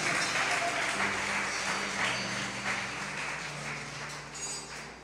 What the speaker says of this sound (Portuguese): Vamos aplaudir o Senhor, igreja